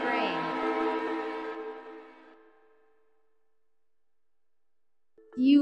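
A train horn blares a sustained harmonic tone for about two seconds, then fades away into quiet, followed by a brief sound at the end.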